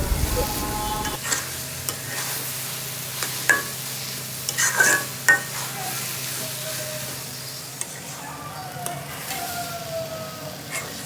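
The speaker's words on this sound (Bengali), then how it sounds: "এখন আমি এর ভিতরে একটু ভালো করে নেড়ে চেড়ে নেবো" Raw mango chutney is stirred in a pan over medium heat, with a steady scraping and stirring texture and light sizzling that carry on throughout, plus a few sharper knocks from the spoon against the pan.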